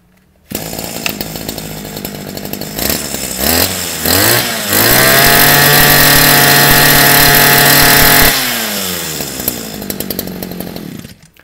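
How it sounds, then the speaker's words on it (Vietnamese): A small Japanese two-stroke brush cutter engine, model H3, sputters to life, revs up in bursts to a loud, sustained high-pitched whine, then drops back to a rattling idle. "tiếng bô nổ rất giòn"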